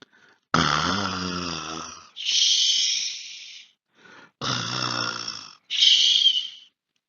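Slow, loud snoring, four long rasping breaths with pauses between, alternating a deep rumbling inhale and a hissing exhale, a voice imitating a lion snoring.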